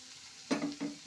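Peas drop into a pan of frying spices and rice, giving a quiet sizzle that swells into two short bursts of hissing within about a second.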